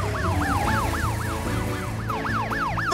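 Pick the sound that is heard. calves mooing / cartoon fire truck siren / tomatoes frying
cartoon fire truck siren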